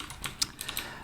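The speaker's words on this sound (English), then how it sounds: "you can hear from the clicking already the cherry blue keys" A HyperX Alloy Elite RGB keyboard with Cherry MX Blue switches being typed on, producing a quick, uneven string of sharp, clicky keystrokes heard close and alone.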